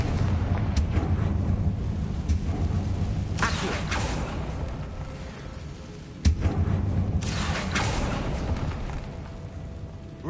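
Confringo blasting spell explosions in Hogwarts Legacy: continuous rumbling booms and bursts under a noisy battle background, with a sharp impact near the middle, no talk.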